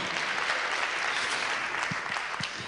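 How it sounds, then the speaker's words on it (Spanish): A church congregation claps together in steady, dense applause that fills the space, holding evenly before easing slightly toward the end. "Denle un aplauso al Señor por los hermanos"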